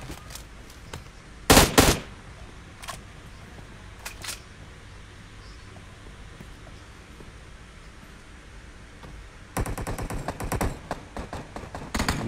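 Gunfire in a Free Fire custom-room match on mobile comes as sharp, clicky shots: an early loud volley, a few isolated cracks, then a rapid burst near the end.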